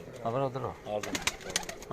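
Pigeons coo in a loft, with low, rounded calls rising and falling close by across two seconds, mixed with other tonal sounds.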